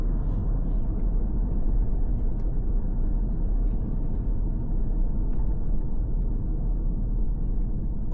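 A car pulls away from a roundabout during a UK driving lesson, with a steady, dense low engine and road rumble that stays loud and even throughout and no talking.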